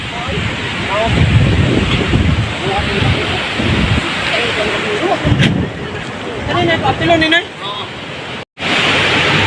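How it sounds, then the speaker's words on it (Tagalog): Strong Typhoon Odette wind roars and buffets the microphone continuously, loud and gusty, with occasional voices under the noise and a brief dropout near the end. "sobrang lakas ng hangin"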